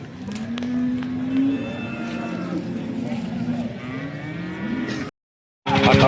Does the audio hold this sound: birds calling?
no